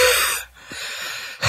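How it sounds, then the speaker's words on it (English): A smoker's avatar in Second Life lets out harsh, raspy, wheezing coughs in two loud bursts separated by a brief breathy pause. "that really is a smoker's cough"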